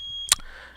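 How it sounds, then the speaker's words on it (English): A household smoke alarm gives a single short, piercing electronic chirp, standing out sharply over a steady high background tone in an otherwise quiet room. "So that's my smoke alarm, beeping in the background."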